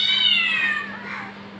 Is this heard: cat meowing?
yes